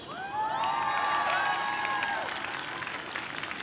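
A climate rally crowd in Singapore cheers and applauds, with scattered whoops and high shouts over a bed of clapping, fairly distant and moderately quiet, swelling and then easing off.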